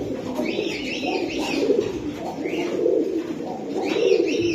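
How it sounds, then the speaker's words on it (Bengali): Several pigeons at a pigeon seller's coop coo in low, throaty rolling calls, with bird chatter over steady, fairly close background noise and no voices. "কবুতর আছে কয়েকটা, আমি আপনাদের দেখাই"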